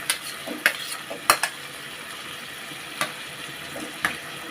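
Spinach, garlic paste and chopped tomato are stir-fried in a pan under a soft sizzle, with a spatula clinking and scraping in irregular knocks, no voices.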